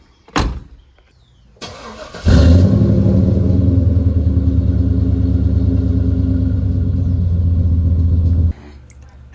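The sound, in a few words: car driving down the road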